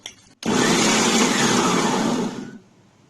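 A kitchen blender grinds chopped mango with sugar and chilled milk, a loud continuous whirring roar that starts abruptly after a brief pause and runs steadily for about two seconds before tapering off.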